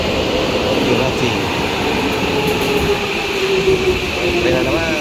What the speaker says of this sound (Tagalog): May tren na naman.